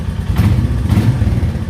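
A Royal Enfield Meteor 350 motorcycle engine is revved up close, two quick throttle blips rising over a loud, thumping idle.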